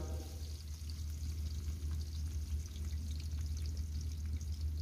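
Chopped onions added to hot cooking oil for a dhaba-style tinda curry, giving a steady, close sizzle and crackle that holds evenly throughout with no talking.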